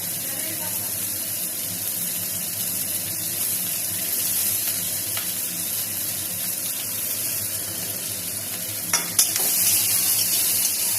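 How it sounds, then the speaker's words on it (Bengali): Chopped onion and green chili frying in a pan, a dense steady sizzle with light stirring, close and even throughout, a brief clatter near the end. "এখানে পেঁয়াজ কুচি, মরিচ কুচিগুলি দিয়ে দিলাম।"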